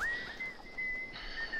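A character in Assassin's Creed Valhalla whistling during the Siege of Paris DLC, a thin steady high whistle tone holding and breaking off over constant game ambience, moderately faint.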